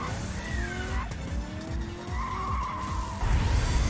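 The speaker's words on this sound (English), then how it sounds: "The only disappointing thing is that he still sounds like a car" A Triceratops racer in the Cruis'n Blast arcade game roars along with a car engine, its tires skidding and squealing in long sweeping tones while the engine note rises and falls and swells louder near the end.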